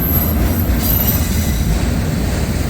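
A CSX freight train with a rear DPU locomotive rolls past at close range, a loud continuous rumble of wheels on rail with a thin high squeal above it.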